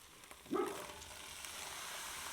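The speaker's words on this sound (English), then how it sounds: "Next I'll add in the seasoned chana." Seasoned chana tips into a hot pot for curry channa, hitting with a sudden burst of sizzling that settles into a steady frying hiss for a couple of seconds, without any talk.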